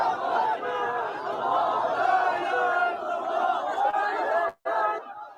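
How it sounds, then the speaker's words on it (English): Massive crowd of mourners at a funeral procession in Gaza shouting in anger: a roaring mass of voices chanting and yelling together, loud and continuous, with a brief cut to near silence before resuming. "a massive crowd came together to voice their anger and called for a response to the attacks"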